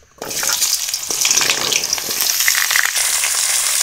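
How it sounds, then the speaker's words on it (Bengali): Kohlrabi and potatoes frying in hot oil, a steady close sizzle with occasional stirring clatter that starts abruptly and continues without voices. "তার জন্য ওলকপি আলু ভেজে নেব তেলের মধ্যে"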